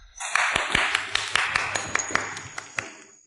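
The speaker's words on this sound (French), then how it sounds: "Applaudissements." Guests at a banquet give scattered applause, with sharp individual claps ringing out over a bright, washy room ambience and dying away after a few seconds.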